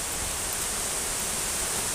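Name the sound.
Dumalabdab Falls waterfall rushing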